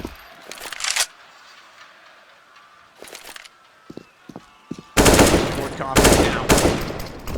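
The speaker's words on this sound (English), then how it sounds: "Firing through smokes." Gunfire in Counter-Strike: Global Offensive during a professional Inferno match, with loud rapid bursts near the start, middle and a heavy sustained spray at the end, under a caster's excited talk.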